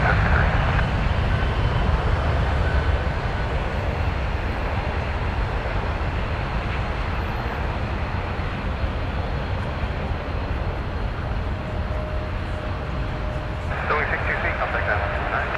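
An Embraer 175 passenger jet at Toronto Pearson airport gives off a steady, broad engine roar and rumble that lasts the whole time. Voices can be heard talking over it.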